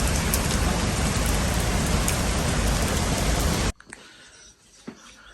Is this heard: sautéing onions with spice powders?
no